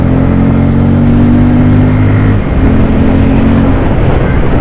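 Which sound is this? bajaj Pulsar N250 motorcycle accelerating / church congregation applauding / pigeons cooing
bajaj Pulsar N250 motorcycle accelerating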